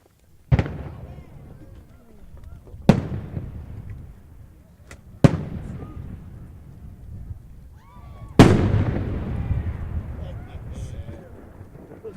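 Four firework shells burst one after another at a public display, each a sharp crack or boom followed by a long crackling, rumbling tail. Fairly loud with some distance, and people can be heard around them.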